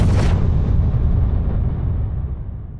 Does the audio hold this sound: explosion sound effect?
yes